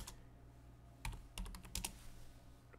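A computer keyboard typing commands in AutoCAD: a few quick, close keystrokes in an irregular burst over a low steady hum, with no talk.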